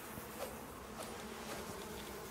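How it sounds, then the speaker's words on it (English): Bees pour out of a destroyed beehive in the video game Icarus, a steady close, droning buzz filling the air with faint wingbeat flickers throughout. "So, the beehive is destroyed. Guess what? The bees just came out."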